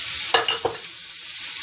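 Minced onions and garlic sauteing in a pan for albondiga soup, a steady close sizzle broken by three quick scraping stirs early on.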